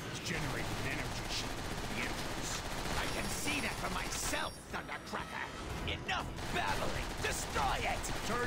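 Rapid cannon fire and blasts from Transformers: War for Cybertron, dense repeated metallic bangs and mechanical clatter over several seconds, with a player's voice talking over the battle.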